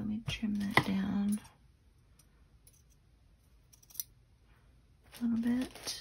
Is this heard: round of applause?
no